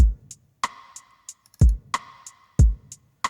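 Crisp hi-hat ticks in a steady eighth-note pulse over a kick and ringing snare beat, repeating alone with no voices.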